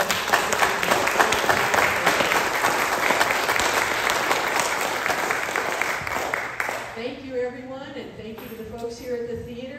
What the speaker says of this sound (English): let's give Jeff Gorbel one big round of applause.